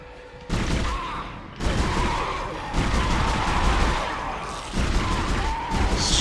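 A rapid-firing gun in Dead Space unleashes sustained bursts of bullets in loud, dense volleys. Each burst is cut off by short pauses, and the shooting stays close and continuous, with no voices.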